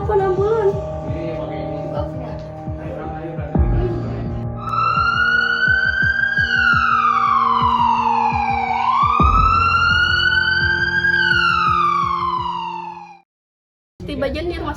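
A wailing siren rises and falls in long sweeping cycles over a steady hum, loud and close, then cuts off abruptly near the end.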